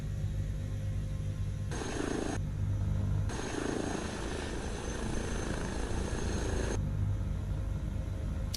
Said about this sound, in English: Now you're handling this helicopter quite well